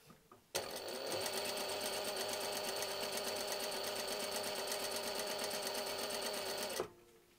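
A Juki DDL 8700 industrial sewing machine runs at its maximum speed after a couple of soft clicks. It makes a loud, rapid, steady mechanical whir that holds evenly for about six seconds, then stops abruptly.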